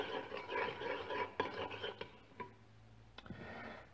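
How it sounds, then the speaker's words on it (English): Wet scraping and rubbing as a meat filling for Macedonian mantii is mixed by hand in a bowl until smooth, soft and close, uneven strokes with a few light knocks. "I'm going to mix it till it's smooth"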